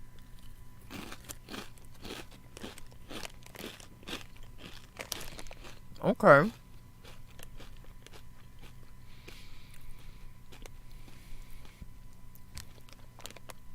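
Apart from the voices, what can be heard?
crunchy chewing of Cheetos and Fritos chips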